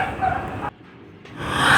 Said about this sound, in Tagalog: pasensya na kayo guys sa aso